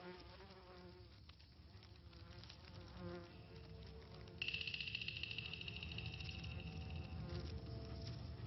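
A wasp invading red tree ant territory buzzes steadily and close, its drone growing louder and more sustained partway through, with no talking.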